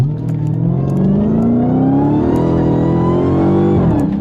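A Dodge Hellcat engine with an aftermarket cold air intake revs loudly and steadily up, a high supercharger-style intake whine climbing with it, then drops off sharply near the end.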